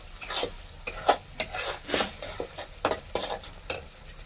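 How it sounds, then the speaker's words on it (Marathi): Spice masala for a village-style crab curry frying in a pan, a steady sizzle broken by quick repeated scraping stirs, close and fairly quiet, with no talk. "मसाला आपला चांगला फ्राय झालेला आहे"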